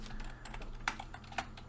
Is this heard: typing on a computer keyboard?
yes